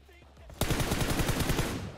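Gunfire in the mobile battle royale PUBG Mobile: after a brief quiet moment, a loud automatic burst of roughly a dozen rapid, evenly spaced shots fires close by.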